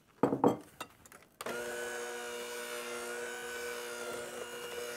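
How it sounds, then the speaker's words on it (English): An electric mixer on low speed mixing flour into batter: a few clattering knocks first, then the motor starts up abruptly and holds a steady, close whirring drone. "And start your mixer on low."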